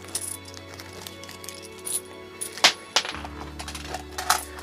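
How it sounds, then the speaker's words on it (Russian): Metal Russian ruble and kopeck coins drop and clink one after another in a small chest, giving sharp, close metallic chinks scattered irregularly over a low background hum. "Да, монеты падают."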